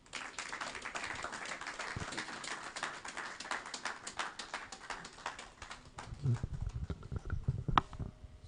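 An audience at a youth proclamation event claps in a steady, dense patter of applause that fills the whole stretch, with a voice speaking over it near the end.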